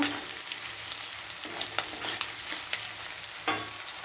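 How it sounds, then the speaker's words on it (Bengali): Oil sizzling steadily in a pan of frying shrimp, with intermittent scraping and stirring clicks, close by and without any talking. "চিংড়ি মাছ ভাজা হয়ে গেছে"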